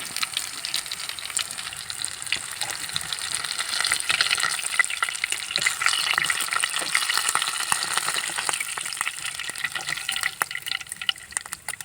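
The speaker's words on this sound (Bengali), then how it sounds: "এবার বাকি মাছগুলো সেমভাবে ভেজে নেব" Tengra fish frying in oil in a home kitchen give a continuous crackling sizzle with scattered sharp pops, steady and close throughout, with no talking.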